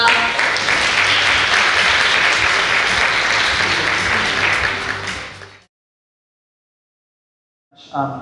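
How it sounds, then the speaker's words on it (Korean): A forum audience at a biennale pre-event in Suseong claps steadily and loudly for about five and a half seconds to welcome a speaker, then fades out into silence, with a brief burst of sound at the very end. "박수로 모시겠습니다."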